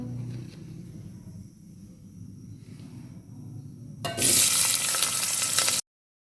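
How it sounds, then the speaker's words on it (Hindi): Onions going into hot oil in a pot for aloo matar pulao: a quiet kitchen hum suddenly bursts into a loud, close, crackling sizzle that holds steady until it cuts off abruptly, with no talking. "तो यहाँ पे प्याज हमारे फ्राई हो रहे हैं"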